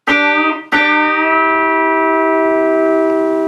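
Electric guitar double-stop bend in a country lick imitating a pedal steel: two picked attacks, then a sustained two-note chord that rings smoothly and loudly with a touch of reverb, close and alone.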